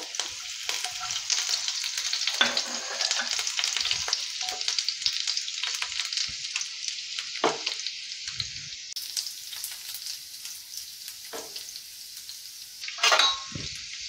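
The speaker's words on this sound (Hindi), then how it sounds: "आग रसुण को टिके भल करी हल्का से फ्राई करिबा 30 सेकेंड पे।" Garlic and green chili frying in a pan for a broccoli stir fry, a continuous bright sizzle with occasional stirring scrapes, close and steady without talk.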